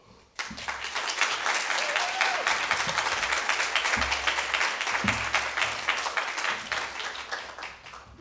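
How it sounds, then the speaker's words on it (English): After a short quiet moment, an audience at a tech education talk breaks into sustained applause, many hands clapping loudly and steadily before tapering slightly toward the end, with a brief voice faintly heard. "And please join me again to another round of applause for Linda."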